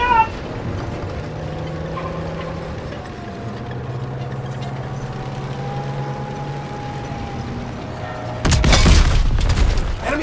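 An enemy tank is destroyed in the Call of Duty WWII video game. A long rumbling engine and battle drone runs under a few distant voices, then a loud, deep explosive blast bursts near the end.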